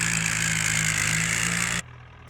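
A modified tractor engine idles with a steady low hum and rattling drone, loud and close, then cuts off abruptly near the end, leaving faint background.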